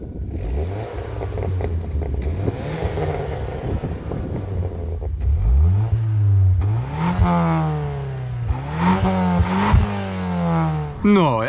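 A 2003 Saab 9-3 2.0T Aero four-cylinder turbo engine is revved repeatedly while stationary, with a low idle swelling into sharp, rising blips that fall back, loud and close, and wind noise in the background.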